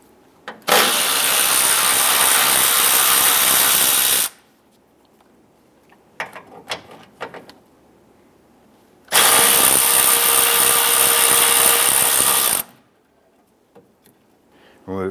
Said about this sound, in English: We're going to use 10mm socket to loosen and remove the hood latch.